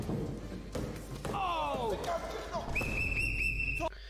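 A whistle blown during a car-smashing session gives one steady, shrill blast lasting about a second, following some sliding squeals over constant background noise.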